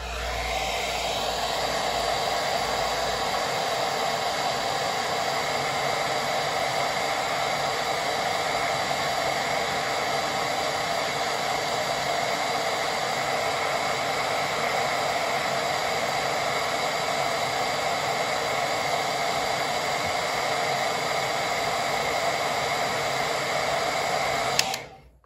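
A hair dryer blows steadily over wet paint on a painting, a loud, close, continuous whooshing roar that holds for about 25 seconds and then cuts off abruptly.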